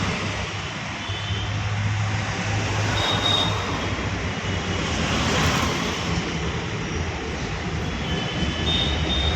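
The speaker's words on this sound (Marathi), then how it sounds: "तेव्हा मेट्रो ट्रेनमध्ये कशी चालली" A small metro train runs along an elevated track, a loud, continuous rumble and hum of wheels on rails, with faint squeals rising now and then as it carries on steadily.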